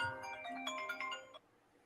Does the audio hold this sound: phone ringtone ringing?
yes